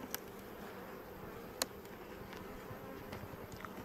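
Honey bees hum quietly at an open beehive, a low steady buzz broken by a couple of sharp clicks and knocks.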